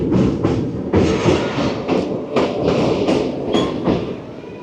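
Katra–Badgam DEMU train running toward Srinagar in Kashmir, heard from inside as a loud steady rumble with rhythmic clickety-clack wheel beats and thumps over rail joints.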